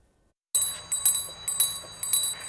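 A Salvation Army charity hand bell rings bright and close in repeated bursts, each shake sending sharp metallic dings that hang and ring on between strokes, after a moment of silence.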